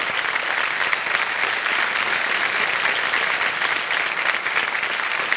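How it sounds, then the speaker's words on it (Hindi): Sustained studio audience applause on a Hindi TV quiz show set, dense steady clapping from a large crowd, loud and continuous throughout with no talking. "ताली बज जाए इनके लिए।"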